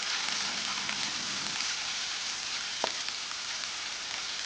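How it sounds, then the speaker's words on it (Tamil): Cabbage and mixed vegetables for street-style veg noodles sauté in a hot pan with a steady, even hiss and one brief clatter near the end. "முட்டைக்கோஸ், நல்லா சேர்த்து வதக்கிக்கோங்க."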